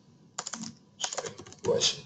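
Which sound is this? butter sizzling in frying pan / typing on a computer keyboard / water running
typing on a computer keyboard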